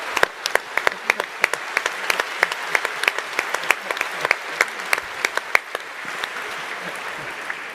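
Applause from a conference audience at an annual investment conference, moderately loud with many distinct sharp hand claps close by over a softer crowd wash, thinning toward the end.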